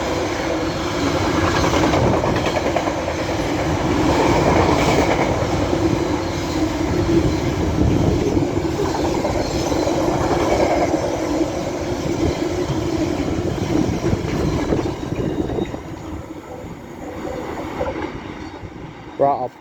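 Locomotive 66652 hauling a works train through Church Fenton station on the East Coast Main Line, a loud sustained rumble with clattering wheels and some squealing that fades toward the end.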